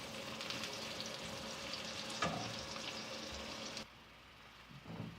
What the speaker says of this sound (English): now I'm adding onions and fry these onions until they turn dark brown in color